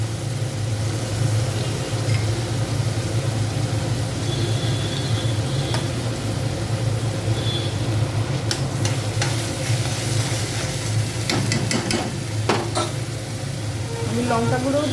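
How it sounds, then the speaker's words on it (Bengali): Chilli and coriander powder sauté in hot oil for chicken curry in a steady close sizzle, broken by stirring scrapes and a few clinks of utensil on pan toward the end. "লঙ্কা গুঁড়ো, ধনে গুঁড়ো দিয়ে ভালো করে কষতে হবে।"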